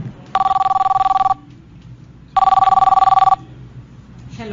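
A telephone rings twice, each a loud electronic trill lasting about a second with a pause between, standing out over a low background hum.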